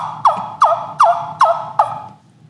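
A trumpet-style turkey call sounds five evenly spaced yelping notes, each a sharp rising-then-falling squeal, loud and close with no talk. It is played to imitate a turkey heard from about 200 yards away.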